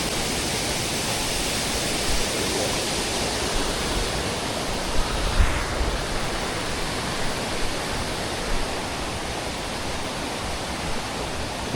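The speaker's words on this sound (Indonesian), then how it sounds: "Curug Roda, berarti kalian telah berada di Curug Roda yang benar ya" Curug Roda waterfall in Pacet and its river stream pour in a constant, even rush of white water, with a few faint knocks partway through and no voices.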